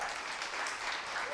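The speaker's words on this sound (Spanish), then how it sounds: "Dile un aplauso al Señor." Brief, faint wash of congregation applause in a Spanish-language church service, steady and distant with no distinct individual claps.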